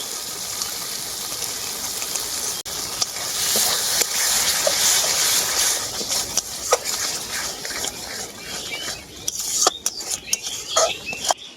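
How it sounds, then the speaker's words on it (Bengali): A utensil scrapes and stirs spice paste mixed with sour curd in a pan. The scraping and clinking run steadily, with a soft sizzle underneath and a few sharper knocks near the end. "টক দইটা দেওয়ার পর মশলাটাকে আমি খুব ভালো করে কষিয়ে নিয়েছি"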